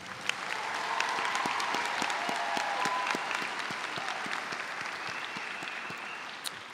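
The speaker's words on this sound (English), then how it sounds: "I ask you to give them a big round of applause." A crowd at a high school graduation ceremony applauds warmly and steadily, the dense clapping swelling and holding for several seconds before easing slightly.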